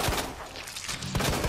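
Gunfire in the survival-horror game Resident Evil 2, a few sharp loud shots near the start and again near the end, separated by a short quieter stretch, with no talk.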